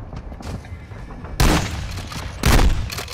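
Gunfire in Warzone 2 crackles through a busy game mix, with two loud, sharp bursts of shots standing out over quieter background fire.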